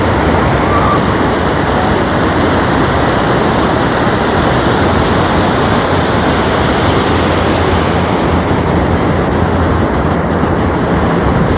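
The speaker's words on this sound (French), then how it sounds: "Il y a des vagues énormes quand même" Huge ocean waves crashing on a California beach at Oceano Dunes during big tides, a loud continuous roar of surf filling the whole clip with no break.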